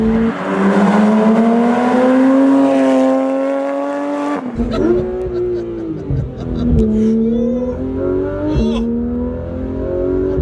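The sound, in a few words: Porsche 911 GT3 RS engine accelerating at full throttle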